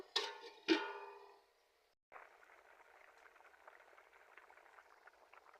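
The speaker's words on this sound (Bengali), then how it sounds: "তরকারি ফুটে উঠেছে" A covered pot of curry with banana stem simmers at a low, steady bubble, a faint soft fizzing that runs on alone after two sharp metallic clanks of the lid at the start.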